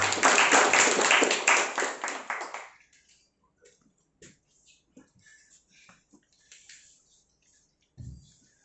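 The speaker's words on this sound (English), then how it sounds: "A big round of applause" Audience applause at a speakers forum, a dense burst of clapping for about three seconds that stops abruptly, followed by faint scattered rustles and small noises in a quiet room.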